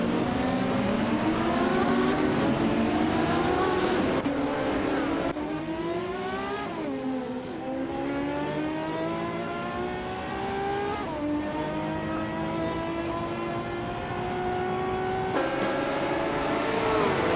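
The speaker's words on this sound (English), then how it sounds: "Cross is driving a 1970 Ferrari 512 Escoda Lunga, a classic with a long tail design for better aerodynamics." A 1970 Ferrari 512 long-tail race car in a racing video game, its engine roaring loud and near, climbing through repeated rising gear pulls with brief drops at each shift, sustained throughout.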